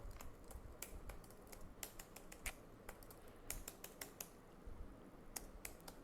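Computer keyboard keys click in quick, irregular bursts at close range, faint and alone with no talk.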